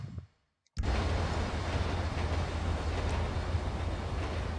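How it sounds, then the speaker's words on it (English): A train passes in the police game GTA V with the LSPDFR mod. After a brief near-silence, a loud, steady rumbling roar with a low hum starts abruptly and carries on evenly, with no talk. "I really wish there's a way to stop the train from coming through."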